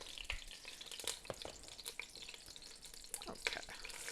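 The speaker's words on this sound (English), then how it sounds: "if your oil is hot enough, you just do a little bit of water, and if it sizzles like that, you're good." Vegetables sizzle in hot oil in a pan. The frying gives a steady, close crackle with scattered pops and stirring clatter, and faint talk can be heard in the background.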